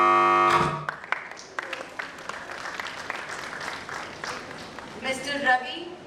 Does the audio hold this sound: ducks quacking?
no